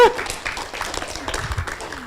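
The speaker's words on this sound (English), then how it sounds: "Okay, so give applause to both groups." Audience applause at a regional training course session in Yogyakarta, a brief burst of clapping from a seated group with some voices and light laughter mixed in, close and moderately loud.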